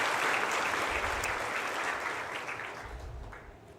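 Warm audience applause at a high school graduation ceremony, a steady wash of clapping that gradually fades over a few seconds.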